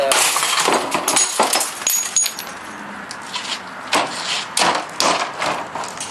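Glass being broken off a CRT television tube during dismantling, a run of sharp cracking, clinking and tinkling bursts at irregular intervals, close and fairly loud.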